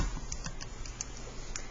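Light typing on a keyboard to enter a logarithm calculation, a handful of soft scattered key clicks over a steady background hum.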